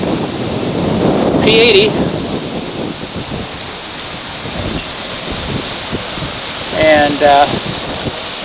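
Wind gusts across an outdoor scale model aircraft show, a broad, loud rumbling roar that swells and eases throughout, with someone speaking briefly over it at a couple of points.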